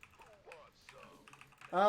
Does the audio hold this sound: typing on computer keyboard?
yes